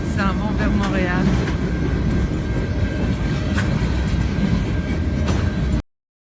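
A train rolls along a railroad track, a steady loud rumble with rhythmic clatter running throughout, while people talk over it.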